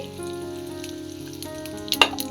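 Cumin seeds and bay leaf sizzle in hot oil in a kadai, a steady close frying hiss with a brief sharper crackle near the end and no talking.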